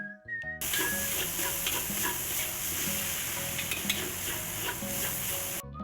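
Nyonya dumpling filling stir-fried in a wok with dark soy sauce, steady loud sizzling and hissing with scraping spatula strokes throughout, close up and with no talk.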